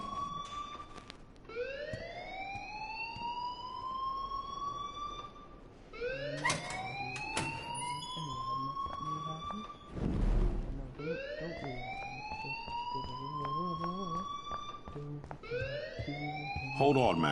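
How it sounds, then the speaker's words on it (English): A wailing electronic alarm in the video game Life is Strange sounds in a repeating rising sweep, cycling steadily and fairly loud, with faint game sounds between the cycles. "please turn off that alarm since that's your job"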